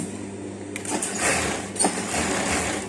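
Sewing machine stitching fabric for a V-neck dress with puffed sleeves, a close, steady motor whir with rapid needle chatter and small clicks as the fabric is guided, no talk.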